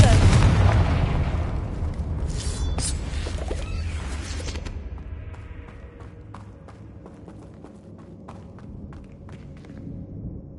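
Spell explosion in the Hogwarts Legacy video game: a loud burst with a booming, crackling blast that decays over several seconds into a lower rumble, while a voice speaks.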